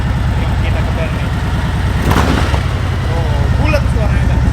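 A Harley-Davidson Milwaukee 8 motorcycle engine revs up loudly and close, a deep, pulsing bassy exhaust that swells and surges with throttle blips while a voice speaks over it.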